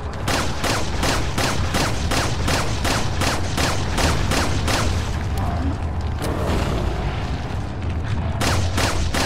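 Rapid, continuous bursts of Resident Evil 4 gunfire, loud and steady throughout, with heavy booming blasts and no break in the shooting.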